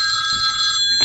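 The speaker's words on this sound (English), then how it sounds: "My phone is going off here." A phone rings with a bright electronic trill, a loud, steady chirping tone that continues unbroken for about a second.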